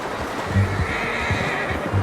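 A horse neighs in Red Dead Redemption 2, a few short whinny bursts over steady ambient game noise with no speech, fairly close and moderately loud.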